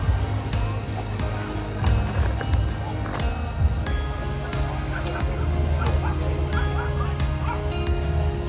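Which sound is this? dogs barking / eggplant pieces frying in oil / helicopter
dogs barking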